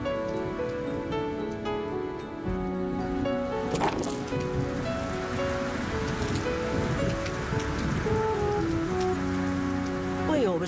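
Steady rain patters on surfaces throughout a film scene. A dense, even hiss of drops runs under sustained musical tones.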